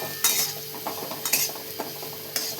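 A ground peanut, chili and garlic mixture is stirred in a pan for chakwat greens, giving a few scraping clinks and swishes at a steady pace over a faint sizzle, with no talking.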